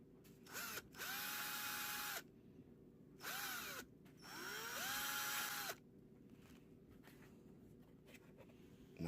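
A power drill bores into the welded tab of a battery cell in close, loud bursts: a short burst, a long one, a brief one, then a longer run, with quiet pauses between.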